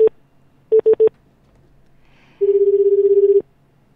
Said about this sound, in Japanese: 今電話しております。